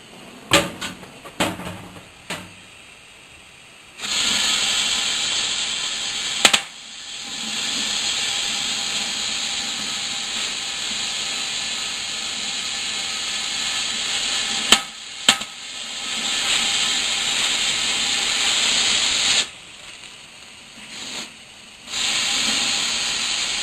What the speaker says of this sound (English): we're just basically going to torch a groove in the stove itself